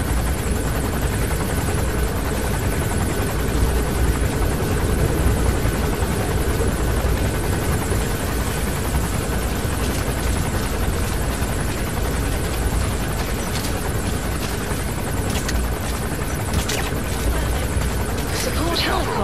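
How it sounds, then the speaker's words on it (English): A helicopter's rotor drone in the video game Metal Gear Solid V: The Phantom Pain runs steadily throughout, thick and continuous, with muffled talk mixed into the dense engine noise. "Support helicopter requested."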